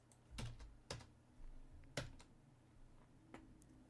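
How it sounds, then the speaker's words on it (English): Quiet, sparse keystrokes on a computer keyboard, with a few sharper taps from the enter key being hit repeatedly, heard close and alone with no talking. "So I have to mash the enter key."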